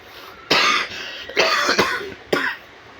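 Three sharp, harsh coughs in a row, spaced about a second apart, close and loud with brief quiet between them.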